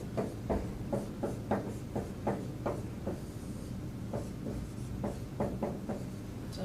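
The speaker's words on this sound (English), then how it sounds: "So let's write down our formula for sample size." Pen or marker writing out a sample size formula during a statistics lesson: steady, close scratchy strokes in short rhythmic bursts over a constant low background hum, with no talking.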